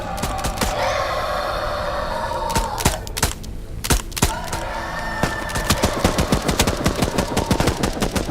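A machine gun emplacement in Into the Radius 2 fires loud, rapid bursts, with sharp cracking shots in clusters, then a sustained rattling volley toward the end, close and dominant, and no talking.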